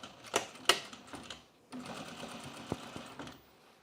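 Sewing machine running two bursts of stitching along a curved seam on men's jeans, the second run longer and steadier, close and moderately loud with no talking.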